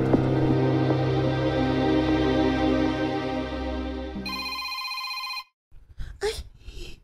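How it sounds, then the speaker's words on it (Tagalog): A phone rings with an incoming call, its electronic ringtone repeating loudly over a steady hum for several seconds before cutting off, followed by a few brief sounds. "Maayo kay nanawag si Miss Babes"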